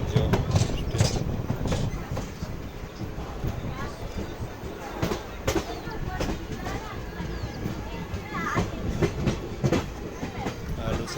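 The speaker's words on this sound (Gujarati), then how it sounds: "ટ્રેનમાં બેઠેલા છીએ" Passenger train running on the tracks between Junagadh and Keshod, heard from inside a carriage as a steady rumble with repeated clickety-clack wheel beats throughout.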